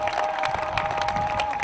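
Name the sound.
crowd applauding, ovation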